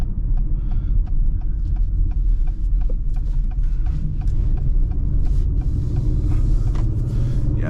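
Acura RDX Technology Package with turbo engine accelerating at light throttle and low RPM, a steady low rumble of engine and road noise heard from inside the cabin, with faint mechanical ticking over it.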